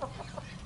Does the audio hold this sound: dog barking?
no